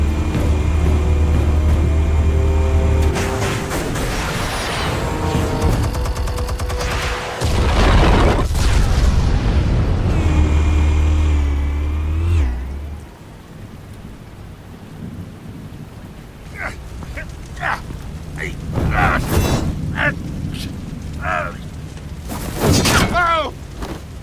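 Explosives detonating in Batman: The Telltale Series, heavy booming blasts with rumbling low-end roar through the first half, then fading to quieter debris crackles and scattered sharp hits.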